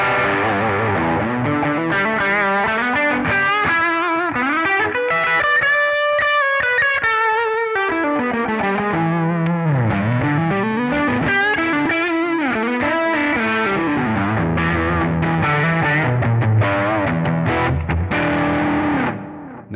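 Electric guitar played through a Kemper Liquid Profile with a little delay: a distorted, gain-heavy tone with chorus-like shimmer, sustained chords and bending melodic lines over nearly twenty continuous seconds, loud and without talk.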